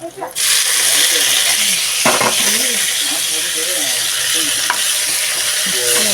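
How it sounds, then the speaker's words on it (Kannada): Leafy greens tipped into a hot frying pan and stirred, giving a steady loud sizzle with scraping stir strokes throughout, no talking. "ಈಗ ಇದಕ್ಕೆ ಈ ಸೊಪ್ಪನ್ನ ಹಾಕ್ಕೊಂಡು ಬಿಡ್ತೇನೆ"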